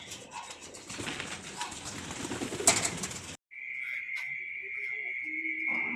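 Homing pigeons returning to their loft, with soft cooing and wing rustles over a steady background of insects chirping.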